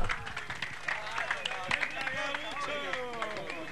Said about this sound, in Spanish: Fuerte el aplauso, por favor, para los jóvenes raperos.